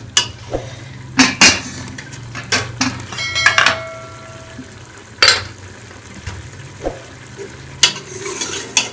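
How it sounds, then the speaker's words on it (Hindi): Tomatoes and masala fried in ghee for aloo gosht, a spoon stirring and scraping the pot in irregular sharp clinks over a low steady sizzle, close and fairly loud, with no one speaking. "1 चम्मच हमने इसके अंदर अब घी की डाली और इसको अच्छी तरह भून लेंगे"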